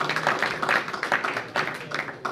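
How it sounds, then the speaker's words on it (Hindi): A crowd applauds the Pakistan Press Club team at a poetry gathering in Willesden Green, London, producing steady dense clapping with rhythmic surges throughout, moderately close and without speech. "तो इस पूरी टीम के लिए भरपूर तालियां होनी चाहिए"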